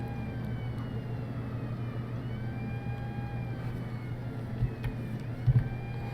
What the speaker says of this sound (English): Where is that ambulance noise coming from?